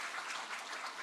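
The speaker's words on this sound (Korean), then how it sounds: "우리 위로의 박수 하십시다." Church congregation applauding during a Sunday worship service, a steady dense wash of hand clapping filling the short moment from start to end at moderate level with no voices.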